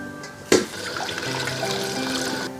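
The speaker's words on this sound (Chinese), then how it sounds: "这煮出来血水就把它捞出来清洗哈" Boiled beef tongue is rinsed under a running kitchen tap: a sharp clunk near the start, then a steady stream of water splashing into the sink for a couple of seconds.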